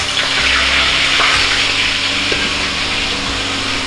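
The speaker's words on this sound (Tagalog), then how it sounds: "Prito muna tayo ng ating isda. Pang-ulam po namin. Yan, so pritoin lang natin yan." Loud, steady sizzling and crackling of fish frying in a hot pan, continuous throughout with faint low hum underneath and no voices.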